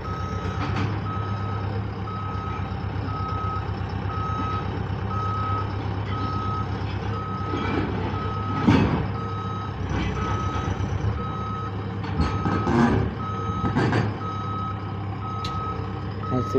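A garbage dump truck slowly reverses with a steady, evenly spaced series of loud reversing beeps over a constant diesel engine rumble, with a few brief clanks and hisses partway through.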